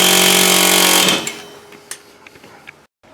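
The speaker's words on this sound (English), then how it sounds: "I'm going to just use a air hammer here with a bit on there and then push the axle" An air hammer fitted with a bit drives an axle into a wheel hub on a Dakota during front suspension work, buzzing loud and continuous for about a second before cutting off, followed by scattered metallic knocks and clatter.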